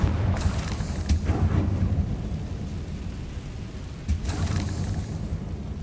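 A Confringo spell exploding in Hogwarts Legacy: a deep, rumbling roar under steady noisy ambience, with a blast swelling near the start and a second one surging later.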